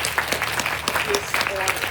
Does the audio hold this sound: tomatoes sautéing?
no